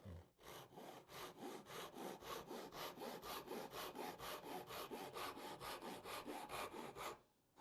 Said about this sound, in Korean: 이렇게 해서 톱질을 한번 해볼게요